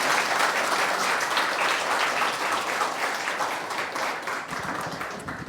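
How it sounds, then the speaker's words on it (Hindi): Sustained applause from a poetry gathering audience, many hands clapping together, loud at first and gradually easing off. "ताली बजाइए, स्वागत कीजिए।"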